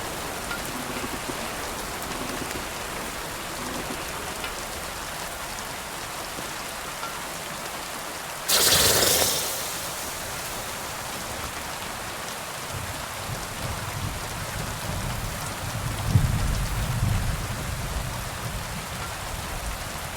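Steady rain falls in a medieval video game, a dense even hiss of drops throughout, broken by a brief louder splash or gust partway through and a faint low rumble later.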